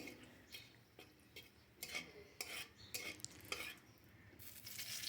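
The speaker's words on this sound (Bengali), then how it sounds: "ওই তেলে ফোড়নে দেব দারচিনি, লবঙ্গ, এলাচ, তেজপাতা" Whole cinnamon, clove, cardamom and bay leaf sizzle softly in hot oil while a utensil scrapes and taps against the pan in a series of short knocks, quiet and close.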